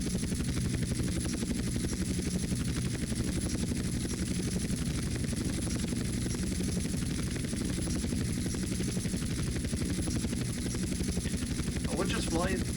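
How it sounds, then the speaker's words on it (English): Helicopter flight in the video game GTA San Andreas, a steady loud rotor drone with continuous throbbing low rumble throughout, a brief burst of other noise near the end. "I would just fly the helicopter to all of them."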